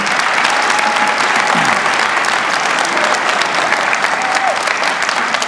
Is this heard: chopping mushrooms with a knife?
no